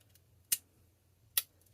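Two sharp, crisp snips from the small scissors of a Victorinox Swiss Army knife, spaced about a second apart over a faint low hum, close and fairly quiet.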